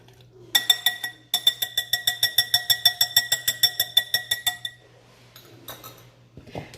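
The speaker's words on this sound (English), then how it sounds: "And you just give it a little whisk around." A whisk beats banana cake mixture in a bowl, making about two dozen quick, evenly spaced metallic clinks in a steady rhythm, close and clear, then a short pause and a few scattered taps.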